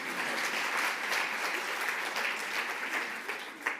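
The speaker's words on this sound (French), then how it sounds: "on peut l'applaudir" An audience claps at a live talk in a steady, crowded round of applause that thins slightly toward the end, heard from a moderate distance.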